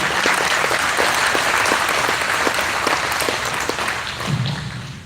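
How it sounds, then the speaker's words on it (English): Sustained applause from an indoor crowd at a Port Huron business launch event, steady clapping filling the whole stretch with a few sharper claps standing out and no talk over it. "Let's give them a round of applause."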